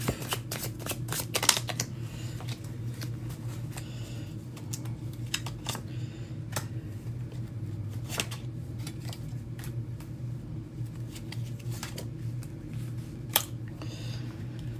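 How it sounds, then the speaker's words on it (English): Repeated riffling shuffles of a deck of cards, quick papery bursts over a low steady hum, fairly quiet and close. "Not me continuing to shuffle when I know I'm going to have to pull."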